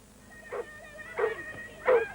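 Lurcher dogs, greyhound-collie crossbreeds, give three short, close whimpering yelps at even intervals over a low background hum.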